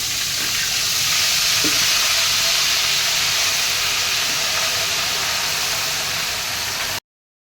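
A paste of onion, tomato, ginger, chili, garlic and asafoetida for bhaji sizzles loudly and continuously in a hot pan, a dense steady hiss with a few faint clinks and no voices.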